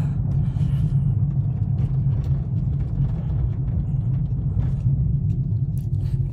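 Steady low rumble of a 2015 Chevrolet Silverado with a Borla ProXS muffler, heard from inside the cab with the windows up, a constant droning hum with no talk over it.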